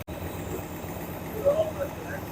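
A Pontiac 400 engine idles at about 700 RPM on a run stand with bolted-together exhaust and no gaskets, leaking exhaust; a steady, moderately loud low rumble continues under quiet voices.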